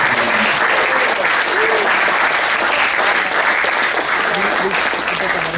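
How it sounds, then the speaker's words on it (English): An audience at a college golden jubilee motivational talk claps loudly and continuously, a dense, close wash of many hands applauding together that holds steady for several seconds. "I request everyone to give a clap for Vinit Nair"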